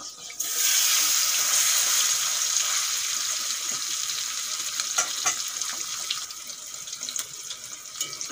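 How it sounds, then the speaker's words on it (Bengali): Pieces of stingray fish frying in hot oil in a pan, a loud, continuous close-up sizzle and crackle that holds steady throughout with small pops. "বাদ বাকি মাছগুলো আমি একই রকমভাবে ভেজে নেব।"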